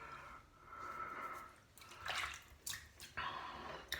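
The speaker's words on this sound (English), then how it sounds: "Let's just wash my hands." Hands are rinsed under running water from a tap, a soft steady splash near the mic with a few brief louder swishes and drips toward the end.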